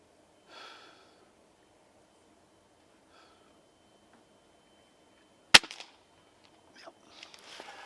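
A Gamo Swarm Magnum Pro .22 air rifle fires a single pellet with a sharp, loud crack. Quiet breathing and faint rustling are heard before the shot, and light handling noises follow it.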